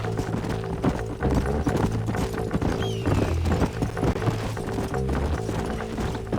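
Horses gallop through a Red Dead Redemption western setting, a steady rapid clip-clop of hooves running the whole way under a busy music and effects bed, close and loud.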